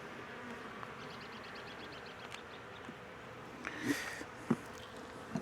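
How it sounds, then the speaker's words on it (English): Worker honey bees crawl over a hive frame, giving a faint, steady buzz with a few soft handling knocks close by. "Just see a lot of worker bees"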